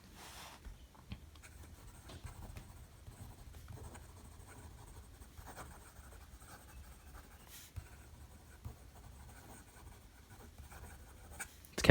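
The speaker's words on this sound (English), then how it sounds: "We'll do some fast writing." Quick handwriting with an Esterbrook Estie fountain pen on paper, a soft continuous scratch of the nib with faint strokes and small ticks, quiet and close with no voices.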